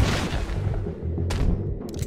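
Gunshots ring out in a video game shootout, a few loud booming cracks with rumbling low-end tails, separated by short gaps and ending in a final sharp report.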